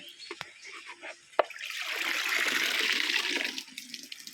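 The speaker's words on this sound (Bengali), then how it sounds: "এই যে পরিষ্কার জলে ধুলাম, তারপরে এই যে ট্যাঙ্কে ছাড়ছি" Water splashes and pours steadily as native magur catfish are rinsed in clean water and released into a tank, a brief knock early on followed by a sustained close-up wash.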